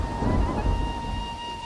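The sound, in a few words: thunderstorm with heavy rain, sound effect in a story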